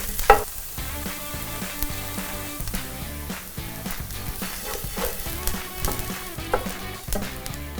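Garlic fries with cooked onion in a pan, a constant bright sizzle with occasional stirring scrapes, and no talking.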